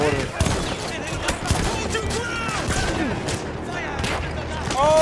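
Battlefield 1 campaign combat fills the clip with dense, rapid gunfire and clattering bursts, loud and continuous, while a player speaks briefly over the shooting.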